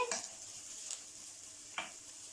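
Thai fried rice with vegetables being stirred in a hot pan, a steady soft sizzle underneath a few scraping clatters of the utensil, quiet and close, without speech.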